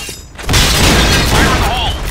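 A grenade goes off in the shooter game Point Blank: after a short quiet lead-in, a loud booming blast erupts and rolls on with rumble and debris for over a second and a half.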